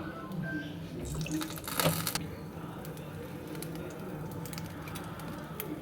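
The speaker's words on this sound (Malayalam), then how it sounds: "ചീഞ്ചട്ടി വെച്ചിട്ട് നമ്മൾ അതിലേക്ക് എണ്ണ ഒഴിക്കുകയാണ്" Oil is poured into a pan for frying onion fritters, a steady liquid pouring wash with a brief louder splash partway through, close and continuous.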